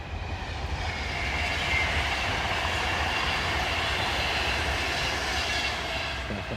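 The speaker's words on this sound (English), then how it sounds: "Wait for that train to pass." A train passes near an allotment on a rainy day, a steady, loud rumble of wheels and rail clatter that holds evenly throughout, with no voices.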